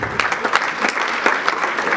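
Audience applause at a university inter-faculty conference in Kolwezi as speakers return to their seats, a steady mass of clapping with distinct nearby claps, continuous and fairly loud.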